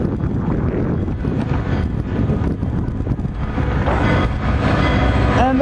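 Long Metra commuter train rolling past a platform, a steady, loud rumble of railcars with wind buffeting the microphone and a brief higher squeal near the end.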